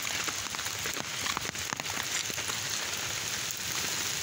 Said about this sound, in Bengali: সেই সকাল থেকে বৃষ্টি পড়তেছে একটানা।